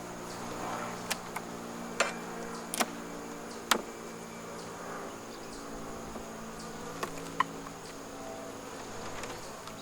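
Honeybees buzz around an open beehive during a late-season inspection, a steady soft hum broken by occasional sharp clicks and taps, with no talking.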